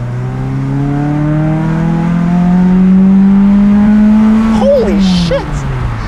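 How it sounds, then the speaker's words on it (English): A Toyota Celica MK7 four-cylinder engine revs up steadily under throttle, pitch rising loud and close, then dropping off sharply with a quick blip near the end. "Just has that Japanese like, four-cylinder sound."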